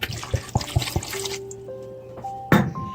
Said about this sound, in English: you definitely want to rinse your potatoes once you cut them